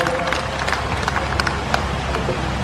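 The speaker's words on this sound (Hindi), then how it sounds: "अपने माननीय राजीव दीक्षित जी का तालियों से स्वागत करें" An audience at a lecture in Bathinda, Punjab, applauds to welcome Rajiv Dixit, a dense, steady patter of many hands clapping that fills the hall for the whole stretch.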